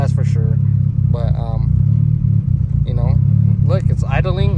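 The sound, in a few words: car engine idling with Burton Racing cam kit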